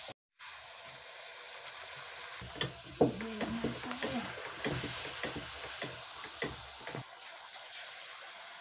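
Karam appalu, spicy rice flatbreads, frying in a pan: a soft sizzle joined by a run of clattering scrapes and taps as the pan is worked, then settling back to a quiet hiss.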